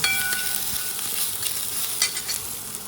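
Onion roasts in a pan for a village-style drumstick curry, giving a steady soft sizzle with light scraping from stirring and occasional crackles.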